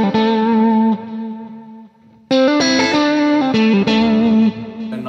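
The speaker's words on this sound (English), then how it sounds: "And the in-between sounds I don't really use that much." Electric guitar on an in-between pickup setting, processed with chorus, distortion and echo, playing sustained notes that dip into a quiet pause and then return with a brighter phrase.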